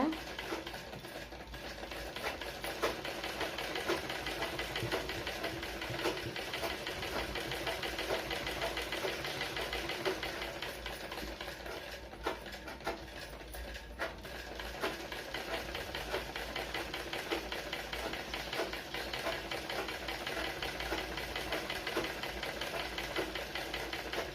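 A sewing machine stitches a blouse sleeve in a long, unbroken run, its even mechanical hum and rapid needle rhythm holding steady at a quiet, close level throughout.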